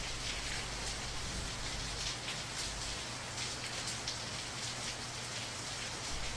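Heavy rain pours steadily in the visual novel game Angels with Scaly Wings, a constant dense hiss of drops hitting surfaces with a low rumble underneath, unbroken throughout.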